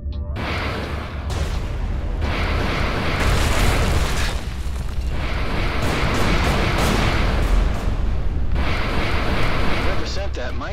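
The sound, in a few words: missile explosions in Everspace 2 video game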